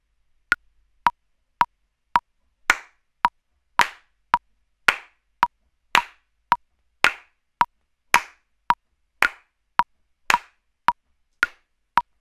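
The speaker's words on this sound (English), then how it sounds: "if I can just get you to clap along for me with the incoming click track, please, Ryan." Hand claps alongside a steady metronome click track during a remote recording session, sharp close claps falling in a regular pulse between evenly spaced ticks, with no other sound.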